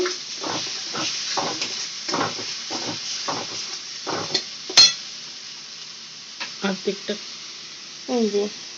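A spatula scrapes and stirs masoor dal curry with turmeric, chilli, cumin and coriander powders in a wok, giving steady rhythmic scraping strokes over a soft sizzle, with a few metallic clinks near the end.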